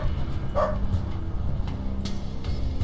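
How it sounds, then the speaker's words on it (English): Several dogs bark in a junkyard in the game Underrail, a short burst of yaps around the middle with fainter barks later over a steady low background hum. "Man, these dogs are all barking in unison."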